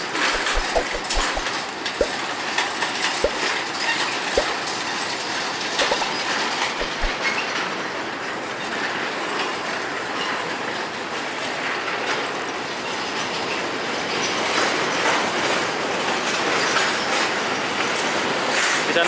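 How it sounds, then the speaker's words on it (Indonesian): A locomotive hauls a string of lorries along rails: continuous loud rumbling with rhythmic wheel clicks and occasional metallic squeals, close by and sustained throughout. "lokomotif kembali melanjutkan perjalanan membawa rangkaian lori menuju ke arah Kencong"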